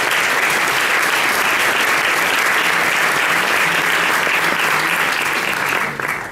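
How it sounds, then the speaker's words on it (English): Audience at a film premiere Q&A gives a round of applause, a dense, steady wash of many hands clapping that holds loud and even before trailing off at the very end. "Let's give a round of applause."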